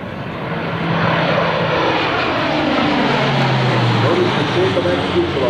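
A Lockheed C-130J-30 Hercules makes a high-speed pass at an Air National Guard open house air show, its propeller and engine roar rising into a loud, sustained rush that sweeps past.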